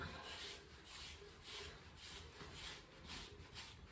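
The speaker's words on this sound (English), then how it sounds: "We can rake this down" A rake is pulled through the coat of a Gordon setter during handstripping, producing soft rhythmic brushing and scratching strokes, about eight in quick succession, close but faint, with no talking.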